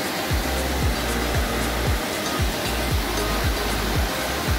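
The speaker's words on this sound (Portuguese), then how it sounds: "o rio passa por debaixo da estrada, formando essa cachoeira, a Cachoeira da Esteira" Cachoeira da Esteira, a large waterfall where a river passes under a road, gives a loud, constant roaring rush of water that fills the whole scene with no pauses.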